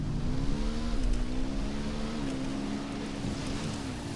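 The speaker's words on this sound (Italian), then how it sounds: "Uso la moto." A motorcycle engine in Ghost Recon Wildlands drones and revs steadily up close, its pitch rising and dipping slightly as it holds a throaty, continuous hum.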